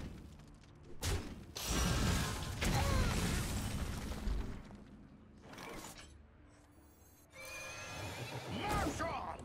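Loud horse whinnies and neighs come in several bursts, with clattering and mechanical clanks between them and a voice speaking at times, from the card game Hearthstone.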